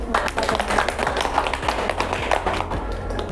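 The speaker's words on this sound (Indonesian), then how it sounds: "Kita beri tepuk tangan dulu." An audience at an Indonesian teachers' orientation seminar in Surakarta claps after a presentation, a scattered, fairly thin run of hand claps and taps with low room rumble beneath.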